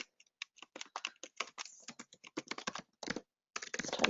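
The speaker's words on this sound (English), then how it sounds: "let's type those really quickly" Quick, light typing on a computer keyboard, close and crisp, with a rapid irregular patter of keystrokes, a brief pause, then a denser burst at the end.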